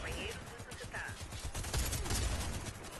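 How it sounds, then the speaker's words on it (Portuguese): Heavy gunfire in the video game Warface, dense rapid bursts and overlapping shots crackling throughout at moderate level, with a voice talking over the shooting. "de onde tá vindo tanto tiro?"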